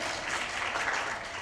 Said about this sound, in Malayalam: നല്ലൊരു ക്ലാപ്പ് കൊടുക്കും നിങ്ങളെല്ലാവരും വന്ന്